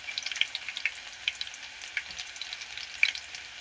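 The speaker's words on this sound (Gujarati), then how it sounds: "એટલે આપણે કળિયું ધીમે ધીમે તળાવવા દેવાનું." Garlic cloves frying slowly in oil over a low gas flame, giving soft, scattered crackles and small pops over a faint, quiet sizzle.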